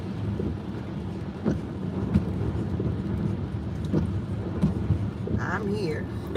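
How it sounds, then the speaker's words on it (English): Rain falling outdoors in Fort Wayne, Indiana, a steady broadband wash with low rumbles like distant thunder, a few louder knocks, and faint bird chirps near the end. "It's a rainy day in Fort Wayne, Indiana."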